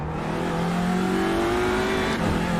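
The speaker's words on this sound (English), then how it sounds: "I'm driving the touring car, which is the slowest class out there." A touring car engine in a racing video game, on a night lap of the Nordschleife, revs loud and close with a steadily climbing, buzzing tone and a brief dip, alone without talk.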